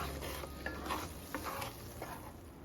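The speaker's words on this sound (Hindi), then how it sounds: "मैं ये प्यूरी इसमें ऐड कर दूंगी और इसको हम मिक्स कर लेंगे।" A tomato and green chilli puree goes into a hot pan and is stirred, giving a soft steady sizzle with faint scraping strokes throughout, close and fairly quiet.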